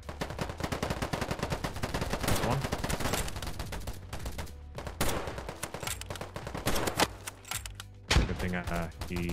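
Dense gunfire in a first-person shooter video game: rapid automatic bursts and single shots crackle in irregular clusters, loud and close, with sharp impacts and occasional quieter gaps.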